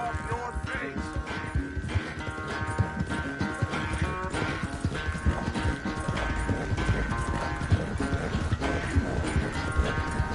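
Horse hooves clip-clop steadily in Red Dead Redemption 2, a continuous rhythmic clatter mixed with game music and ambient sounds, with occasional speech from characters.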